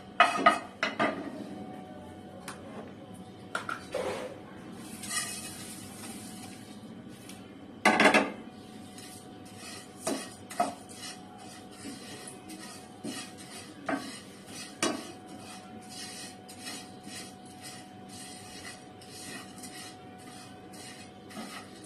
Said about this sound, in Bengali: এখন এখানে আমি চিড়েটাকে ভেজে নেবো